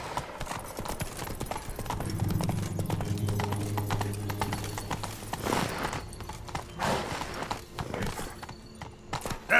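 Hooves of Roach, Geralt's horse in The Witcher 3: Blood and Wine, clip-clopping at a gallop in a steady rhythm, close and fairly loud, with a brief whinny-like burst and a voice speaking faintly partway through.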